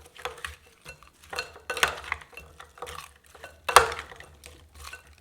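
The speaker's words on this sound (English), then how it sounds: "And give it a mix" Partly frozen shrimp being mixed in a bowl, giving repeated wet squelching and clinking scrapes in uneven bursts, close and clear with no voices.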